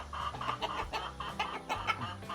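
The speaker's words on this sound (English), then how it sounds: "I'm right here with the chickens." Chickens cluck and murmur close by in a short, uneven series of soft calls, with no voices and no other sounds.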